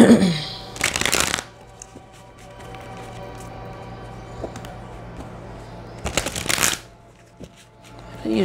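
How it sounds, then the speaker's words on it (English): A deck of tarot cards is shuffled in two quick, crisp riffling bursts, each about half a second long, separated by several seconds of quiet room tone. "I usually shuffle this deck like that"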